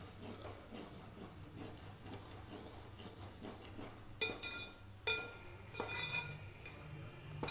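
Chicken curry being stirred in a pan, with quiet scraping and clinks of a spoon against metal over a faint steady hiss, growing a little louder and sharper near the end.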